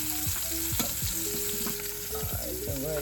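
Meat sizzling in a hot pan just after being flipped, a steady crackling fry with scattered sharp pops and faint scraping, no talking.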